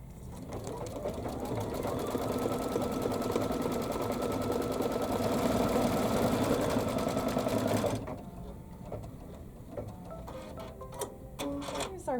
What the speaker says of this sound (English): So I'm going to go ahead and stitch that out in orange.